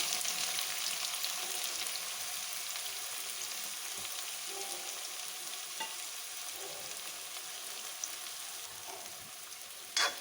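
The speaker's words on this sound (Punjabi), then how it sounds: "ਜੀਰਾ ਜਦੋਂ ਹਲਕਾ ਜਿਹਾ ਭੁੰਨਿਆ ਜਾਏਗਾ ਉਦੋਂ ਇਹਦੇ ਵਿੱਚ ਦੋ ਬਰੀਕ ਕੱਟੇ ਹੋਏ ਪਿਆਜ਼ ਪਾ ਦਾਂਗੇ" Cumin seeds roast in hot oil for a Punjabi bhindi masala, a steady soft sizzle and crackle throughout with occasional pops and a faint clink of a spoon near the end.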